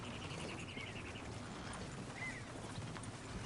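Soft horse hooves clopping faintly in the video game Red Dead Redemption 2, heard beneath a steady ambient bed with a brief whinny-like tone.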